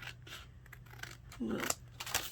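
Scissors snip paper for a decoupage collage, a couple of short crisp cuts amid faint rustling and handling noise at close range.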